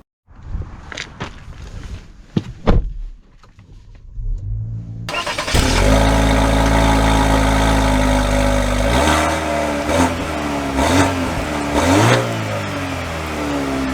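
A Buick Envision Avenir SUV starts after a few handling knocks, and its engine then settles into a loud, close, steady run with rising and falling revs as it begins to drive.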